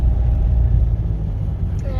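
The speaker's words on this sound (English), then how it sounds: "A lot of traffic." Road traffic in Karnataka at election time makes a steady, loud low rumble of engines and tyres that carries on without a break, with a faint higher tone near the end.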